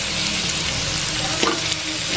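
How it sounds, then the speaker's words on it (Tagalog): Meat frying in a pan, a dense continuous sizzle with a brief stir or clink partway through, close and fairly loud, no voices. "ang next naman natin lutuin ay yung karne"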